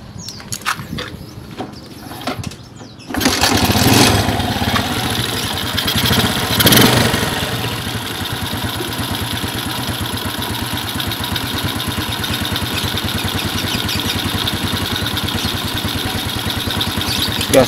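Suzuki Smash motorcycle engine, one with a poor idle and heavy fuel use, revs steadily at low throttle after a quiet start, with a brief louder swell, running continuously and close by.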